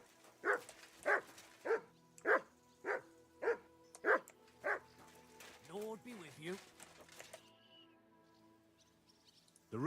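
Dog barking in the medieval video game Kingdom Come: Deliverance 2, a string of about eight evenly spaced close barks followed by whining, yelping sounds and a fading tone.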